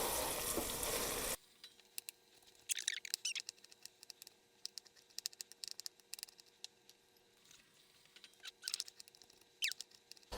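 Soft crackling sizzle of garlic in a hot pan, with scattered pops and spatters over a quiet background after an initial loud burst.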